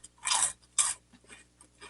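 Dry Post corn cereal crunched between the teeth, with two loud, close bites followed by softer chewing crunches, heard alone without talking.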